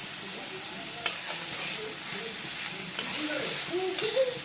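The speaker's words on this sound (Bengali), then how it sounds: "ভালোভাবে নাড়াচাড়া করব, মিডিয়াম আঁচে আমি নাড়বো।" Flattened rice polao with potatoes and onions frying in a pan over medium heat, giving a steady soft sizzle with occasional sharper scrapes and clinks of a spatula stirring.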